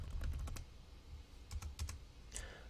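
Quick clusters of keystrokes on a computer keyboard, a burst of rapid taps followed by a pause and then another short run, close and fairly quiet with no talking.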